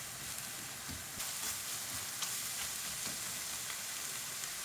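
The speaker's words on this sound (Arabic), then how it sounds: "نتسناو البصله ديالنا تتدبل" Onion softens in a pan with spices, a steady close sizzle and crackle with small pops scattered throughout, heard alone without talk.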